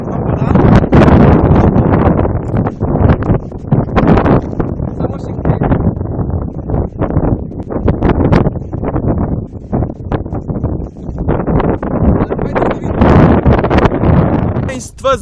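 Strong wind buffets the microphone in loud, rumbling gusts throughout, out in a countryside field, while a person talks underneath.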